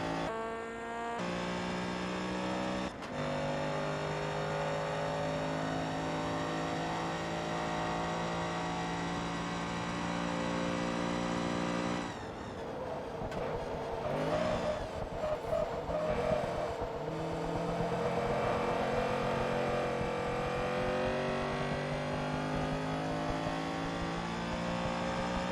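A race car in the Forza Motorsport 2 video game, driven in a Class B event at Sunset Bend, its engine droning loud and steady through gear changes, with a rougher stretch of wheelspin midway and no talking.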